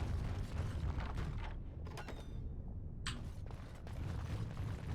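An ominous door in Dragon Age: Origins grinds open with creaking mechanisms and a low rumbling boom, muffled and fairly quiet, a sharper clank or two standing out partway through.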